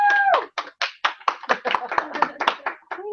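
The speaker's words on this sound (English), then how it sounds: "We need to give her another round of applause." A small meeting group gives a round of applause in sharp, fairly rhythmic claps lasting a few seconds, with voices at the start and end.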